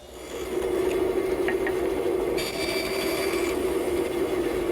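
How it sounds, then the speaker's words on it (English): Table saw blade, raised high, cutting shoulder cuts at the top and bottom of teak door rail tenons: a steady loud machine whir throughout with a brief sharper cutting note partway, no talk. "With the blade raised, I'm able to make the shoulder cut at the top and the bottom of each rail."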